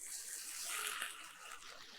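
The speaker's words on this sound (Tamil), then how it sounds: "இதுக்கப்புறம் கொஞ்சமா தண்ணி ஊத்துறேன்" Water poured from a vessel into a pan of cooking masala for poori masala, a steady broad splashing pour lasting a couple of seconds, close and fairly loud with no talk.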